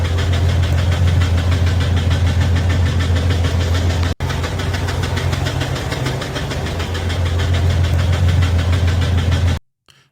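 A 2025 Cadillac Escalade engine runs with a rapid, steady metallic knocking over a deep droning idle, loud and close, with a brief break partway through before it cuts off.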